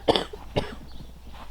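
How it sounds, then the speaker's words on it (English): Two sharp, raspy coughs from an adult who is sick, close to the microphone about half a second apart, followed by quieter throat noises in a calm outdoor garden setting. "Hence the raspy voice and the cough."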